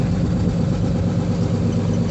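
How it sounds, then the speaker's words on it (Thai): Police and navy boats moored while sheltering from the wind, their engines giving a steady low rumbling idle, close and continuous. "เรือตำรวจน้ำ เรือทหาร มาจอดหลบลมกัน"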